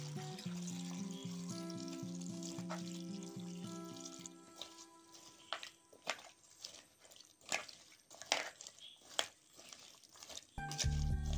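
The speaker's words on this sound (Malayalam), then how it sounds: "1 കഷ്ണത്തിന്റെ മുകളിലേക്ക് വെള്ളം വരുന്ന പോലെ വെള്ളവും കൂടി ഒഴിച്ചു കൊടുക്കാം." Water poured into a pressure cooker over chopped banana stem pieces seasoned with turmeric and chilli powder, heard as a run of close drips, splashes and trickles that grow busier toward the end, with no one talking.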